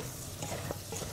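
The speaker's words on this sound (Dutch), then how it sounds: "En deze gewoon even mixen." Marinated meat with salt and five-spice powder stirred in a hot pan, a continuous soft sizzle with scraping stir strokes, close and steady for a brief moment.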